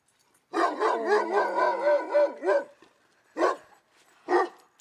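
Several dogs bark and howl close by from behind a fence in a long overlapping volley, followed by two sharper single barks after a pause.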